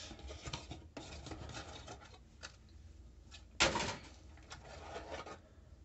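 A boxed AMD CPU cooler is unpacked during a gaming PC build, with rustling, scraping cardboard and packaging sounds in uneven bursts and a sharper louder rasp near the middle, close and without talk.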